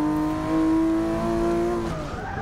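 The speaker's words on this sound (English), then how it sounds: "I only went about half brakes that time because I keep locking them up" Tires squeal loudly under locked brakes as a car skids in the Forza 6 racing game, a steady, continuous screech over engine noise that fades out toward the end.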